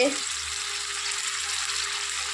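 Fish curry frying in a pan gives off a steady, dense sizzle as it is stirred, an even hiss throughout with a faint low hum underneath.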